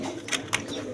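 Domestic pigeons, including a cream-barred giraffe-neck pair, give a couple of short soft coos close by over a low background hum.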